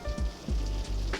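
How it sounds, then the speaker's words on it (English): Steady rain patters in the background, with a few low thumps and gusty rumbles breaking through; no one speaks. "You can probably hear the rain behind me."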